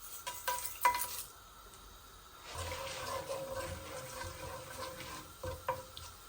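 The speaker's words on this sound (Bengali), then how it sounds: "এই দেখুন এখানে 5 ফোড়ন, তেজপাতা, দারচিনি, এলাচি সব কিছু আছে। এই আমি দিয়ে দিচ্ছি।" Whole spices for Bengali nihari (panch phoron, bay leaf, cinnamon and cardamom) hitting hot oil: a few faint clinks, then a soft, steady sizzle with light stirring, quiet and close.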